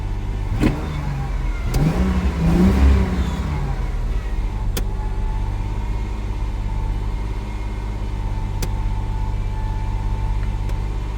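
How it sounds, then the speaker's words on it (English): A car engine with a fault holds a high, strained idle with rising and falling rev surges near the start, then drones steadily and loudly at high RPM, with a few sharp clicks over it and no voices. "That's really high RPM."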